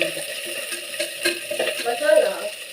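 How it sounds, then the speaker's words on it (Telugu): Chopped onions fry in a pan while being cooked golden brown for a bachelor-style biryani, a soft sizzle with stirring and a few light scrapes and clinks of utensils up close. "ఎరగడ్డ మనం కట్ చేసి పెట్టుకుంటాం కదా, అవి వేసేద్దాం. ఇవి గోల్డెన్ బ్రౌన్ కలర్ అయ్యే వరకు బాగా వేసుకున్నాం."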